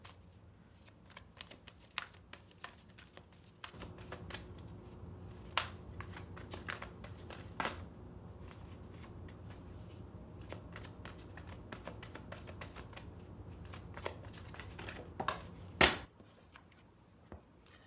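Quiet, scattered card handling with riffling and soft taps, ending in a brief flurry of shuffling, no talking.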